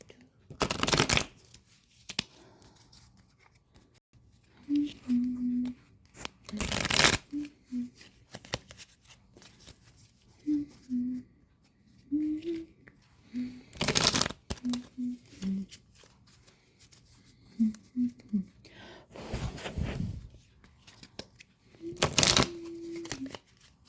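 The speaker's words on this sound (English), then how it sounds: "Let the reader shuffle and cut the remainder of the cards" Tarot cards are riffled and shuffled in several loud, crisp bursts spread across the stretch, with quiet humming or murmuring between them.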